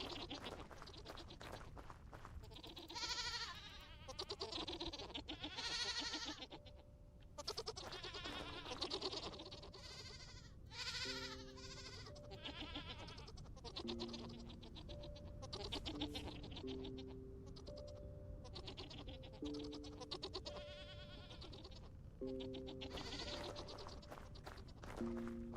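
Goats in the survival game Vintage Story bleating repeatedly under ongoing talk, with wavering calls scattered throughout alongside short tonal game sounds.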